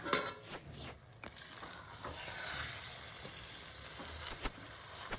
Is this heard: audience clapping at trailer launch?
no